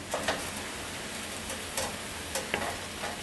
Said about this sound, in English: you're gonna add half a cup of pumpkin puree and about a quarter cup of non-dairy milk, and then mix that together